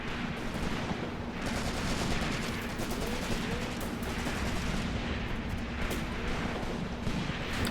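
Dense, continuous battle noise from troops and artillery in the video game Graviteam Tactics: Mius Front, played on the Croatian DLC, with sustained rattling gunfire and rumbling blasts layered throughout at steady loudness.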